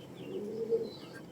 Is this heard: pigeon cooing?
yes